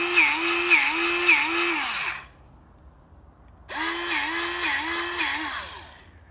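A 12 volt cordless grease gun runs in two close, loud bursts of about two seconds each, its motor whining with a pulsing, wavering pitch and a short silent pause between them.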